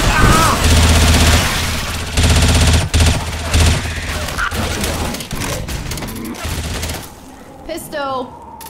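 Rapid bursts of gunfire from Left 4 Dead 2, loud and dense through most of the stretch, with booming impacts mixed in, then fading to quieter game sounds near the end.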